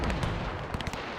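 Cannons firing in a WW1 strategy battle game, German Empire forces, with a rapid cluster of booming shots and sharp cracks over a dense rumbling battle din.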